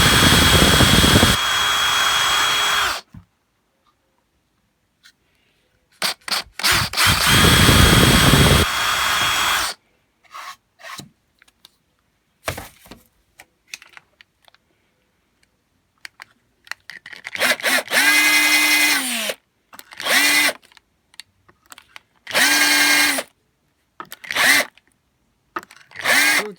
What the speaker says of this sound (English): So we'll drill those two and come back to